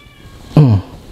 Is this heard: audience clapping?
no